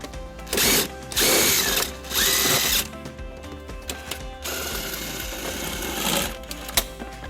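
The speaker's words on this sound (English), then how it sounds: "we're going to be using a 14mm socket to remove those" A ratchet fitted with a 14mm socket backs out plastic underbody screws on a 2019 Hyundai Santa Fe, giving several bursts of rapid mechanical clicking separated by short pauses, close and fairly loud.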